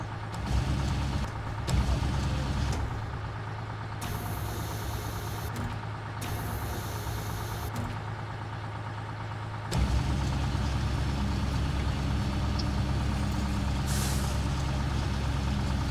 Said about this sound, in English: I have to start the engine in order to use the crane